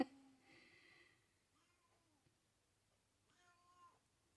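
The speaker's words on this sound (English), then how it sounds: "If you hear the cat meowing on the background," Two separate cat meows, the first drawn out and the second shorter and rising, over a quiet background with soft breathing-like noise.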